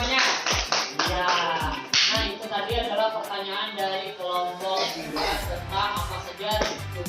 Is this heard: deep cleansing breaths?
no